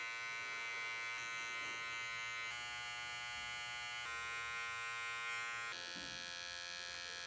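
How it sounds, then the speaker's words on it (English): An electric foil shaver buzzes steadily and close up while being run under the neck during a beard trim, a continuous bright hum with slight shifts in pitch as it moves, and no talking. "Now I'm just going to foil underneath the neck to give that super clean finish."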